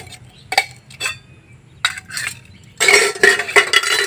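Metal cooking utensils, pots and pans clank and rattle in a household, with a few separate knocks early on, then a dense burst of close clattering toward the end.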